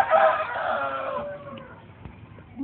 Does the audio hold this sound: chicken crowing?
yes